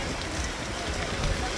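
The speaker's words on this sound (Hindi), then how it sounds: "आज बारिश है" Rain falls steadily on the Bandra-Worli sea link in Mumbai, above the sea, a dense continuous hiss with no breaks and a slight rumble underneath.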